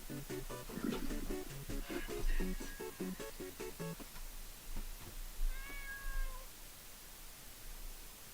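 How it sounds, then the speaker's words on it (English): A cat in the video game Changed meows repeatedly, a run of short mid-pitched calls in the first half and then a longer falling meow, over a low background hum. "Is the cat coming from there?"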